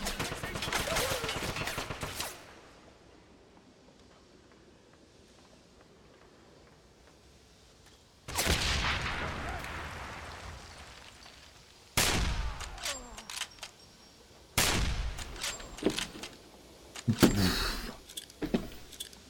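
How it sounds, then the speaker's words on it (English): An AK rifle in the shooter Wolfenstein (2009) fires in rapid bursts, several loud clusters of shots separated by quieter gaps, sharp and close with a booming, full report. "I like how smooth the kind of AK sounds. It sounds like it fires big"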